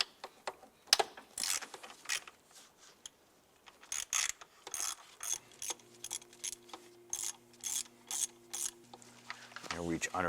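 Ratchet socket on an extension turning a bolt on a Ford Fiesta engine, rapid repeated clicking strokes in short bursts, close but fairly quiet, with a faint hum in the background.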